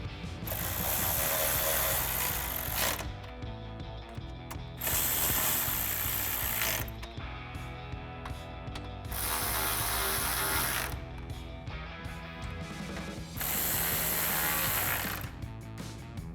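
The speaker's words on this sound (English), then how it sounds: "And tighten it all down with our 10mm socket." A ratchet with a 10mm socket tightens bolts on a BARDE front bumper fitted to a 2013-2018 RAM 1500, with four loud bursts of rapid, close pawl clicking separated by short pauses.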